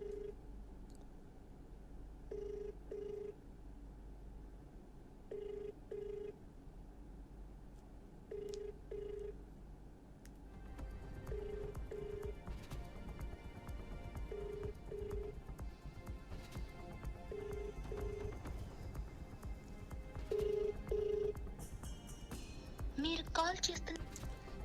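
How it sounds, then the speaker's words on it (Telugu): A telephone call placed to a village secretary rings out unanswered, repeating paired ring bursts at a steady rhythm, moderately loud over a low background hum and faint room noise. "ఆయనకు మనం ఫోన్ చేసాం, ఆయన ఆన్సర్ చేయలేదు"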